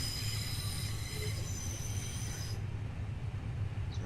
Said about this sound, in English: Some light braking, so we slow down.